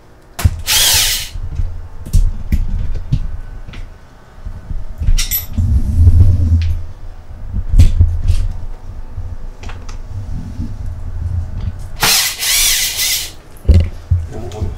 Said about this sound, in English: I'm going to use it to take off the screws